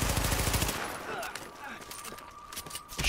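Rapid automatic gunfire in Tom Clancy's The Division, a dense loud burst at the start that trails off into scattered quieter shots.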